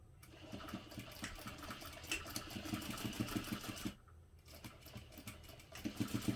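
A sewing machine stitches a fabric clutch, its dense, steady mechanical whir running almost continuously, with a brief pause partway through before it resumes at the same close, fairly loud level.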